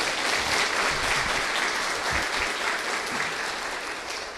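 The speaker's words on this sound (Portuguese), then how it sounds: "Pode aplaudir, pode aplaudir." Audience applause fills a formal solemn session of a city council conferring honorary citizenship, steady dense clapping throughout at close range, easing slightly toward the end with no talk.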